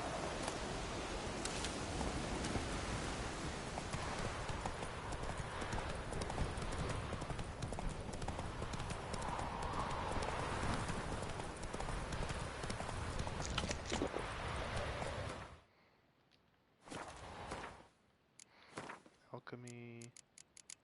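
Hooves of the horse Roach clip-clop at a steady trot in the Witcher 3 video game, a continuous rhythmic patter over rustling ambience, then stopping abruptly into near silence with a few scattered sounds and a short voice.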